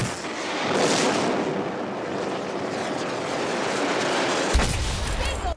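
Heavy rumbling fire from a tank and missile launch in the shooter Battlefield 2042, a dense continuous roar of engine and blasts with a sharp boom near the end, loud and without talk.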